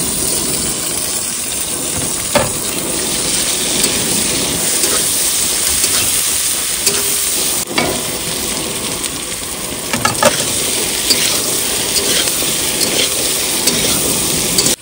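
Onion, green chili, tomato and ginger sizzle loudly in a hot pan, a dense continuous crackle broken by a few sharp clinks of stirring, with no talking.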